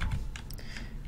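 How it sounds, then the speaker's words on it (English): Quick light keyboard typing in the video game Control, a short burst of close clicky keystrokes heard alone. "I'll play with your keyboard."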